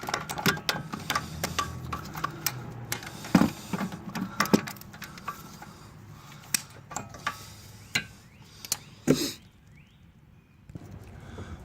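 A socket wrench working the lower bolt on a 2011–2015 Hyundai Sonata during a passenger-side CV axle job, giving a series of sharp metallic clicks and ratcheting taps in irregular bursts, close and fairly loud, with a quieter stretch near the end.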